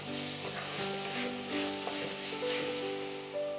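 Green chillies sautéing in a hot pan on low flame for a mutton stew, a steady close sizzle with light stirring, alongside sustained tonal hums and whines in the background.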